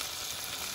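Meat with spices sizzling loudly in a hot pan for biryani, a steady, dense frying hiss that stays even throughout, with no voices.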